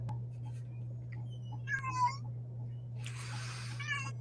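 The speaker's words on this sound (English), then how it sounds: "because those meows are like very cute" A cat gives two short meows over a steady low mains hum, the second more drawn out and raspy, with no talk over them.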